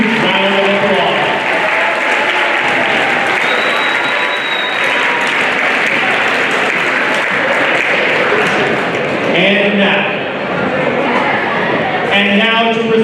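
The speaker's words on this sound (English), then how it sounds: "please give them all one final and huge round of applause" Big round of applause from a high school audience at a fall sports celebration honoring academic award recipients, loud sustained clapping throughout with voices and music faintly beneath it.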